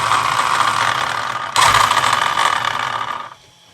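A Losi SBR 2.0 RC car motor under throttle gives a steady mechanical whir and gear rattle. It surges louder partway through, then cuts off abruptly near the end, close and alone.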